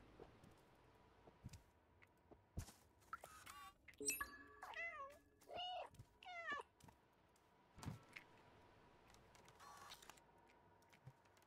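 The cat in the PC video game Stray meows several times in a row midway, with clear rising and falling calls over quiet game ambience and a few scattered clicks.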